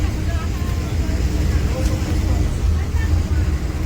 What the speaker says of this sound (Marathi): बस आली आधी